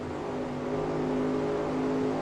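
A race car engine on the track of the 1960 World 600, a steady, close, droning roar with a strong tonal hum that holds level throughout, alone with no voices.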